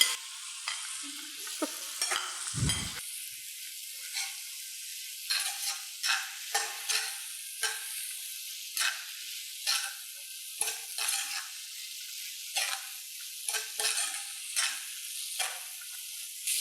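Sausages and masala, with potato chips for a dragon potato dish, fry in a pan with a steady sizzle broken by regular scraping stirs of a spatula, close and clear, with no voices.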